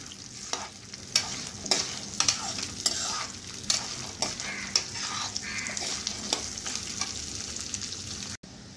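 Peanuts and other chivda ingredients are stirred and fried in a pan, with a spoon scraping in a steady rhythm of distinct strokes over a soft, continuous sizzle, heard close and alone.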